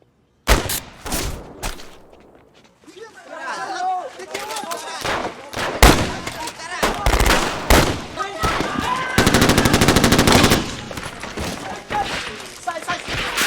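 Rapid bursts of film gunfire from City of God, a 2002 Brazilian gang film, crackle in dense volleys with a sustained automatic spray near the end, mixed with shouting voices and talk.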